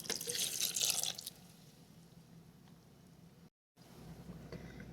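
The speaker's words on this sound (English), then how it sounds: "We're going to pour in about 3/4 of a cup of the bitter orange." Bitter orange juice for a mojo criollo marinade being poured into a pot, a loud splashing liquid stream at first that fades to a quiet trickle and drips, with no talking.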